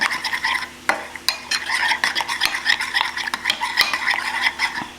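A spoon scrapes and clinks around a pan while pepper is stirred into taco filling, with a repeated close-up metallic rhythm over a faint sizzle and no voices.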